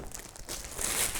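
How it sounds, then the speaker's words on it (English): Plastic packaging from a hammock crinkles and rustles close to the mic as it is pulled off, soft at first and then louder and more continuous toward the end. "let's get the plastic off, which is probably crinkling all over the mic"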